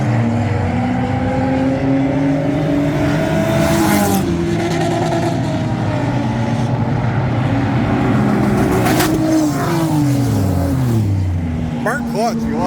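Ford Ranger-style trucks race in an hour-long enduro at the Freedom Factory, their engines loud and continuous with revving, shifting pitch, passes and occasional tire squeal, while voices talk over the roar.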